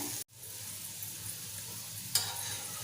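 Semolina-coated potato slices fry in a pan with a steady crackling sizzle, cut off by a brief dropout early on and marked later by one sharp click.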